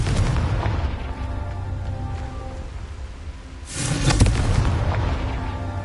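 Explosive Bombarda and Confringo spells go off in the Hogwarts Legacy video game. A continuous rumbling roar builds into a sharp, loud blast about two-thirds of the way through, with no speech.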